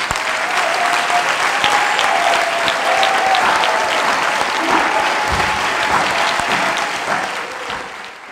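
Church congregation applauding in unison during a Sunday worship service, a steady, dense wash of clapping from many hands that holds for several seconds and tapers slightly at the end.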